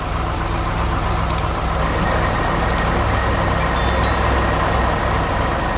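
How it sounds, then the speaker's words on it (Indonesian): A cement mixer truck at work on road construction, its engine giving a steady, loud rumble with heavy traffic noise throughout and a few faint high beeps. "itu pengaduk semen yang sedang bekerja keras membangun jalan untuk kita semua"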